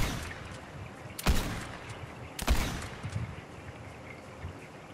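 Two sharp, loud gunshots ring out about a second apart in a Fortnite duos match, each with a brief echoing tail, over a quiet low background.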